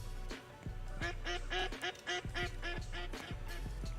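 A duck in the hunting game Way of the Hunter quacks repeatedly in a steady run of nasal calls over a constant low background hum.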